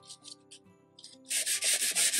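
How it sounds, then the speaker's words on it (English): An old, worn nail file lightly sanding embossed card stock, heard as close, loud rhythmic rasping strokes in quick succession after a few softer scrapes. "I'm just gonna lightly sand, going in the same direction, kind of at a diagonal, over the embossed cardstock."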